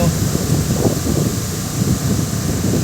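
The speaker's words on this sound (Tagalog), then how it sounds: "malakas pa rin ang tama ng hangin dito" Loud, steady typhoon wind buffeting the microphone with a constant rushing roar, low rumbling gusts throughout and no clear speech, in Barangay Kiluloron, Real, Quezon.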